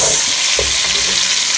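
Chinese cabbage soup seasoned with salt and black pepper is stirred in a pot, giving a short, steady hiss with soft scraping throughout and no talking.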